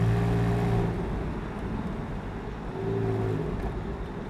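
Porsche 911 Carrera 4S Tiptronic (997.1), four-wheel drive, in auto D mode holding third gear at 4,000 RPM; a steady, fairly loud engine drone with a slight rise and fall, no talk.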